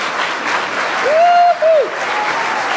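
Big round of applause from a standing audience at a gala opening event, dense and steady, with a single whooping cheer rising briefly over the clapping.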